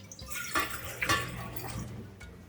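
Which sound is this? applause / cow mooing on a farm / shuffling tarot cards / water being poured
water being poured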